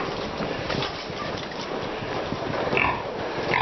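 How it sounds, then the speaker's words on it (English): A pig in a pen on a small dairy farm gives low grunts and snuffles, faint to moderate and close by, set against a steady background rustle with no talk. "there's a pig in there inside the pig pens"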